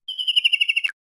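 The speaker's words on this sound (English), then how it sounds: "kingfisher," A kingfisher's call: a single short burst of rapid, evenly spaced high-pitched notes lasting under a second, clear and close, heard alone with no talk.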